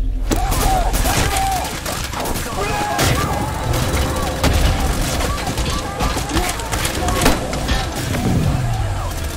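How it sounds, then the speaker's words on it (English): A grenade launcher fires repeatedly in the shooter game Trepang2, loud booming blasts and explosions in quick bursts amid chaotic gunfire and effects, with someone talking throughout. "I'm gonna go crazy with the grenade launcher this time around"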